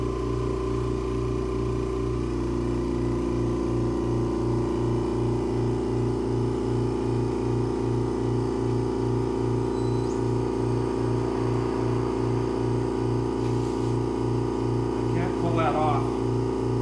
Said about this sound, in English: It's going to get a little noisy because my vacuum chuck is near my camera.